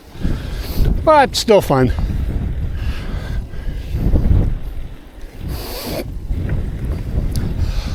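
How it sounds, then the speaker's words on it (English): Steady wind buffets the microphone with a low, rough rumble throughout on a road in Korea, while a person speaks briefly near the start. "Very windy."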